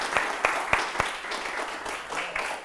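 A live audience at a leadership seminar in Miami applauds, with several sharp, prominent claps early over a continuous patter of crowd clapping that gradually thins out.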